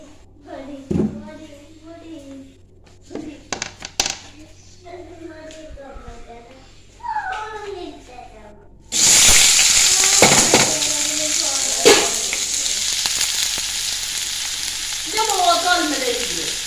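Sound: onions frying in coconut oil for egg curry

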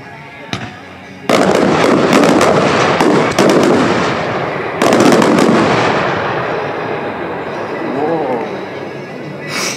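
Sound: daytime fireworks exploding with loud bangs

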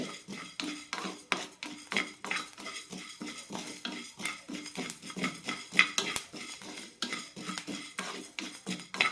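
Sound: rice being dry-roasted and stirred in a pan

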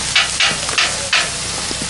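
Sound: breakfast frying on a camp stove

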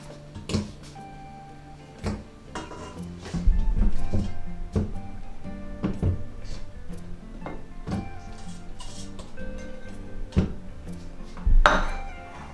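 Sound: dropping smoked meat and vegetables into a pot

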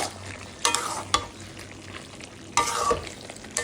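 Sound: stirring fig curry with garam masala in pan

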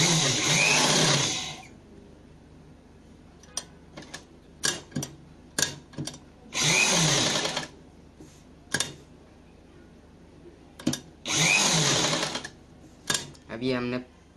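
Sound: sewing machine stitching piping onto fabric

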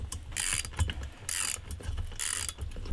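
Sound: ratchet tightening nuts and bolts on utility cart

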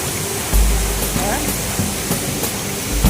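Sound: waterfall

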